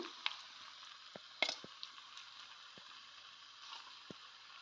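Chicken frying in a pan for a Kerala-style pepper chicken curry gives a faint, steady sizzle, with a few soft clicks and taps of a utensil against the pan.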